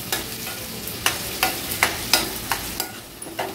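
A large, finely chopped onion cooking in a pan for an Agri Koli-style lobster curry, with a soft, continuous sizzle and a series of sharp scraping stir strokes at uneven intervals, no talking.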